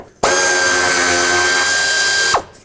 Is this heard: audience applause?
no